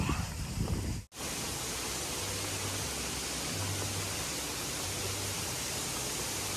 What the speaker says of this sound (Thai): โอ้ยอยากเห็นน้ำตกไหมโอ้น้ำตก